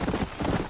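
Horse hooves clip-clopping in the Red Dead Redemption video game, a short burst of rhythmic thudding steps at moderate loudness.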